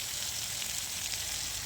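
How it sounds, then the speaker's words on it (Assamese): Pork frying in hot oil with ginger and garlic for a pork with bamboo shoots dish, a steady close sizzle with a constant crackling hiss and no talking. "তাৰ পাছতে এয়া মই মাংসখিনি অলপ ভাজি লৈছোঁ।"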